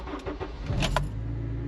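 Honda Integra DC5 Type R engine starting nearby: a few short cranking clicks, then the engine catches and settles into a steady low idle, no talking.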